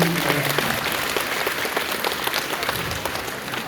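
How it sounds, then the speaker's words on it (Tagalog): Applause from a congregation at a Simbang Gabi Christmas dawn mass, a thick, sustained wash of many hands clapping at fairly close range, holding steady throughout. "Ito na naman yung palakpak na yun."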